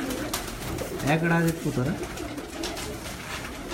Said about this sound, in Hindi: गोल्डन कबूतर